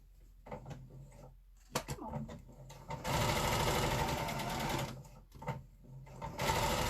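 A sewing machine stitches a tulip block straight down the middle, starting with short bursts and handling noises, then running in a sustained fast whir for about two seconds before stopping and starting again, close by.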